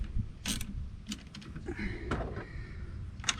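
An injector hold-down nut is loosened by hand, giving faint, close metallic clicks and scrapes in a loose irregular series over low background noise.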